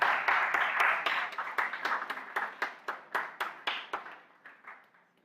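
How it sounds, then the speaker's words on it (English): A small audience at a youth democracy forum claps for a speaker, starting as a moderate burst of clapping that thins into separate, spaced claps and fades out. "Let's give him a round of applause."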